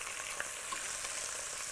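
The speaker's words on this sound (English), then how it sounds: "My pork here, because it seems like it's really sizzling away." Pork belly skin sears in a pan for Chinese braised pork, a steady close crackling sizzle with no talk.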